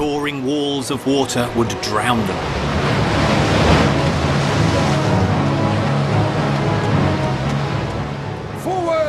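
Roaring sea water surges loudly and continuously, a dense wash of surf and wind, with shouting voices breaking through near the start.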